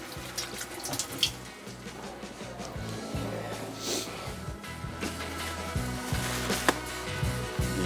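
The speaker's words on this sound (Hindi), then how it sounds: "हाथ धो लेते हैं" Water runs steadily from a kitchen tap while hands are washed beneath it, a continuous splashing flow with small bursts and clatters, close and fairly loud with no talk.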